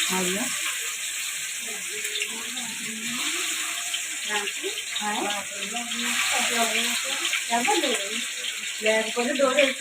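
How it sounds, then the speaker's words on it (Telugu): Food deep frying in oil gives a steady, fairly loud hiss and crackle that carries through the whole stretch, while a voice talks over it. "డీప్ ఫ్రై చేస్తున్నాను."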